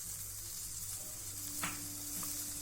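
Coconut milk with reduced thickened milk and a little ghee heating in a pan, giving a steady soft sizzle and bubbling with a brief scrape of stirring, no voices.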